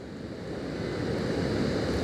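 Ocean surf rolls onto the beach at Visakhapatnam, a dense continuous wash of waves swelling louder, with wind buffeting the microphone.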